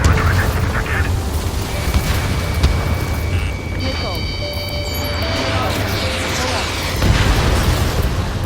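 An anti-aircraft gun blowing up in Ace Combat 7, booming blasts mixed with roaring jet noise and game tones, loud throughout with a heavier burst near the end, under radio chatter.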